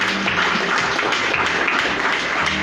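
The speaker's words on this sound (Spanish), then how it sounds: "¿Por qué no le brindemos fuertes aplausos a ellos?" Parents and guests applaud graduating students at a secondary-level closing ceremony in Buena Vista, Concepción Tutuapa, San Marcos, Guatemala. The clapping is moderately loud and continuous over a low, steady hum.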